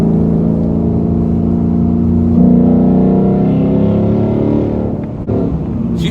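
Manual 2018 Ford Mustang GT V8 accelerating hard, its close, loud engine note climbing steadily through the revs, then falling away sharply as the throttle lifts near the end, with no talk.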